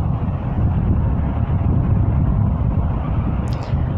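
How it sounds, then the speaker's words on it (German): Outdoor wind buffets the microphone in a loud, continuous low rumble with roaring gusts that barely let up, drowning out any other sound. "Und es ist halt wieder Wind, also es ist jedes Mal etwas anderes."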